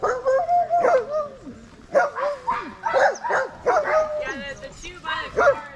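Several sled dogs bark and yip close by at a snowless sledding spot in Willow, Alaska, with excited, uneven barking bursts and whimpers spread across the span.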